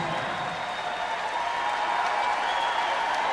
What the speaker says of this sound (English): it's a standing ovation here from the home crowd